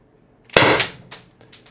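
A Byrna LE launcher fires a single 7.3 gram Alien Play projectile, a loud sharp pop following a quiet moment, then a short decaying tail with a fainter follow-up report.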